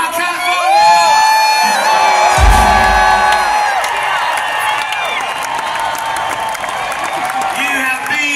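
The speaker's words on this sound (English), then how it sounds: "yourselves a really big cheer. Come on, California!" A concert crowd in Chula Vista, California, cheers, whoops and shouts loudly in a sustained roar, with music tones ringing over it.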